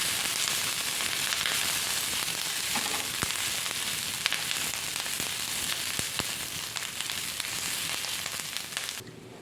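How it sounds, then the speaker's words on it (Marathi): Green chillies roast in half a spoon of oil in a pan, giving a steady, close crackling sizzle with scattered sharp pops, fairly quiet and continuous with no talking, until it drops away at the very end. "बघा, मिरच्या मस्त शेकल्या गेलेल्या आहेत."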